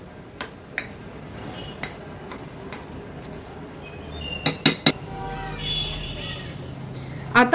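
A spoon stirring bhaji batter with salt in a bowl, giving light, scattered clinks and taps against the dish, with a quick cluster of sharper knocks toward the end.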